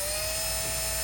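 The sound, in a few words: drilling a hole for golf cart fender flare screws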